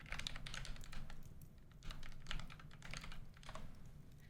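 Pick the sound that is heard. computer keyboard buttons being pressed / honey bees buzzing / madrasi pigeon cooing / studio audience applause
computer keyboard buttons being pressed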